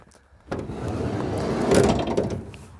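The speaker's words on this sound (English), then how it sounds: "You don't just have one sliding side door," A Toyota Proace van's sliding side door rumbles open, a long grinding roll that starts abruptly and rises slightly before ending with a soft clunk.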